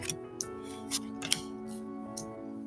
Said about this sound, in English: So I'm going to put down some cards here.